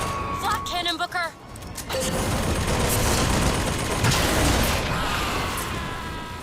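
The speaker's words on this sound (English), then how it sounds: "Flak cannon, Booker." Flak cannon fire in BioShock Infinite opens with a few mechanical clicks and ratchets, then a sustained loud roar of blasts and explosions rolls on for several seconds, with a voice briefly heard early.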